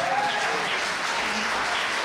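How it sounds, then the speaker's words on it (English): A comedy club audience applauds a guest during a stand-up show, producing a loud, dense burst of clapping that fills the room without pause for about two seconds. "Round of applause for this guy."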